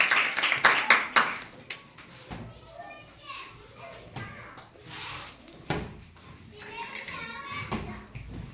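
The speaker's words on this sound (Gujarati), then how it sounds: "ચલો પ્રિયંકાબેનને જોરદાર તાળીઓના ગડગડાટથી વધાવો" Children playing a balloon-tossing and cup-flipping game clap for a girl named Priyankaben, with a burst of loud, close hand claps at the start, then excited kids' chatter and scattered sharp taps.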